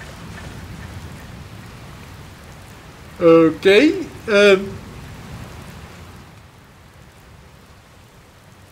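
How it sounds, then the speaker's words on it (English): Steady rain hisses through a rainstorm in Dragon Quest Builders 2 on Switch, a constant wash of downpour that keeps going under one brief spoken word near the middle. "Looks like there's another storm rolling in."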